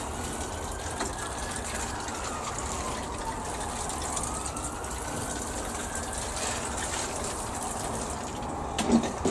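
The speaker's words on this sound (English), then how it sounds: "we're going to give it another quick water down the top" A gentle, continuous wash of running water sprinkled over pea seed trays in guttering, like a steady sprinkle from a can, with a faint mechanical hum in the background.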